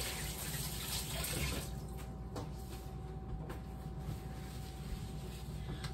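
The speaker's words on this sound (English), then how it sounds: "Clean my hands real quick" Water runs from a kitchen tap during handwashing as a steady, even rush that lasts about six seconds, fairly close and without talk.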